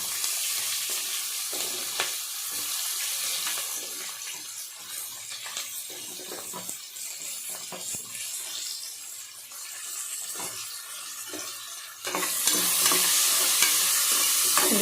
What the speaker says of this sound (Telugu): ఉల్లిపాయ ముక్కలు కూడా వేసుకొని బాగా ఇలా కలుపుకోవాలండి.